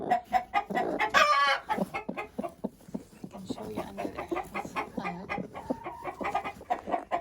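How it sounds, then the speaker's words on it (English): A broody hen clucks in a backyard coop alongside four newly hatched chicks, with repeated soft clucks and a brief higher call heard close under a person talking throughout. "This is my broody hen who's been sitting in the coop, and she's got 4 chicks that have hatched that are alive."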